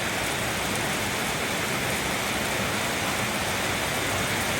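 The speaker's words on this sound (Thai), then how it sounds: "เม็ดฝนลงมาหมด" Heavy rain falls continuously during a trip to Vang Vieng, Laos, a loud, dense, unbroken roar of drops with no voices heard.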